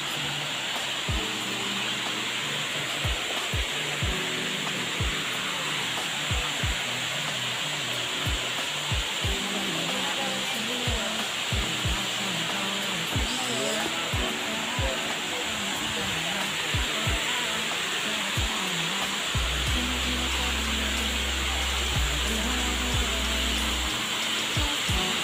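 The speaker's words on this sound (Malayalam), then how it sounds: "ഹായ്, ഇതാ അളകാപുരി വെള്ളച്ചാട്ടം." Alakapuri waterfall in Kannur, Kerala, gives a steady, loud broadband roar of falling water that holds without pause for the whole span, with faint scattered knocks and no speech.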